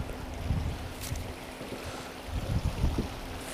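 Wind gusting across open water at a fishing spot, a broad rushing roar with low buffeting rumbles that swell and ease over a few seconds, close and fairly loud, with no talk.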